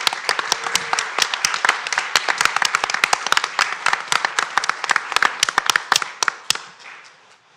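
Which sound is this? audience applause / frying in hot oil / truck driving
audience applause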